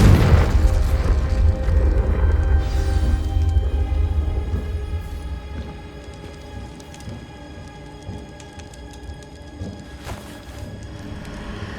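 A Confringo spell blast in Hogwarts Legacy opens with a loud, deep boom that rolls out into a long rumbling decay, followed by quieter ambient game sounds.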